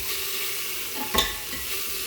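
Mustard seeds, crushed shallots, ginger and onion frying in oil in a pressure cooker pan for chicken leg curry, a steady hiss with one brief stirring scrape midway.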